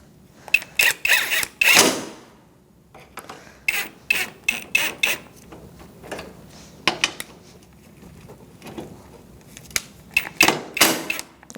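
Bolts on the front bumper brackets of a 2008-2014 Mercedes-Benz C300 are tightened with a ratchet, giving close, loud bursts of rapid clicking that start and stop repeatedly. No one talks.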